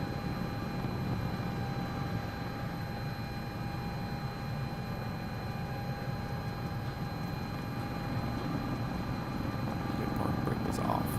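An EMS helicopter drones steadily in flight, heard from inside the cabin, with a constant low rotor and turbine roar and high whining tones that hold even throughout.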